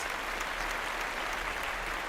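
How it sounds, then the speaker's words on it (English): Sustained audience applause at an evening fashion show fundraiser, a dense, steady wash of clapping from a large crowd at even loudness throughout. "Can I get a round of applause?"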